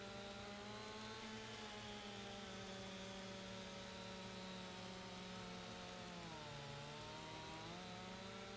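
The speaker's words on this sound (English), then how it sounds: "It's a big log. It takes a lot to cut with the chainsaw." Chainsaw cutting through a big log in the Farming Simulator 25 video game, a steady droning engine whine held throughout with its pitch dipping and rising as it bogs in the wood, alone and without talk.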